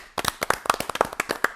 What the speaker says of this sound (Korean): 저희도 박수 한 번씩 칠까요?